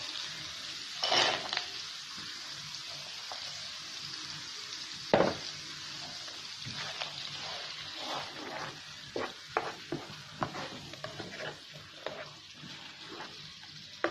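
Green peas fried in a paneer masala whose oil has separated, a soft steady sizzle close by with scattered clicks and scrapes of stirring, a few sharper knocks early on.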